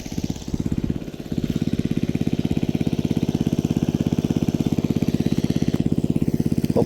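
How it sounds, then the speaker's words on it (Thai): Small engine-driven water pump running in a rice field, a loud close rapid chugging thump with a steady even beat, continuous and alone after a brief rougher start. "นี่คือบรรยากาศทุ่งนาเฮากำลังสูบน้ำเนาะ"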